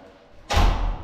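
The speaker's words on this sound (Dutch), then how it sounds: "En voilà, de deur is toe." A door at home slams shut with one loud, sharp thud that rings out briefly after a quiet moment, with no talking.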